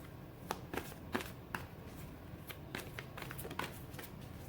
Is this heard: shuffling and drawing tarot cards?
yes